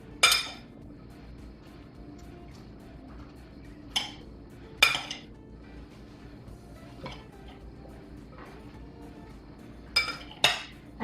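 Potatoes are stirred with olive oil in a bowl for a Spanish tortilla, sparse clinks and scrapes of a utensil against the dish, a few sharp knocks spaced seconds apart over a quiet background.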